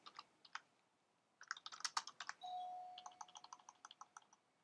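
Name typed on a computer keyboard while making a Kindle e-book cover, quick bursts of close key clicks with brief pauses and a short electronic tone midway, no talking.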